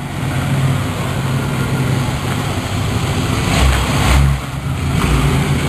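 A 5.7 engine with glass pack mufflers, heard close and loud as a deep, rumbling idle that swells into a couple of throaty revs before settling back, with no voices over it.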